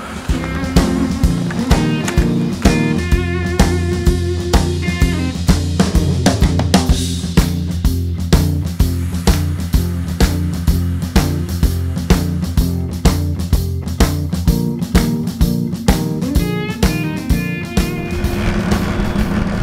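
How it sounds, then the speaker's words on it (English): A steady, loud campervan engine drone mixed with wind noise, a rhythmic clattering beat running throughout, rough and continuous, with no voices. "I hope you can hear me over this wind noise and the engine noise."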